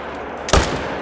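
A single loud hunting rifle shot in the Call of the Wild hunting video game, a sharp broadband crack with a short rumbling tail, heard alone against a steady low background.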